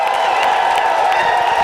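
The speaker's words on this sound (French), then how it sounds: "Poussez des cris de victoire" Loud, continuous crowd cheering and whooping from a worship congregation, with light clapping mixed into a steady roar.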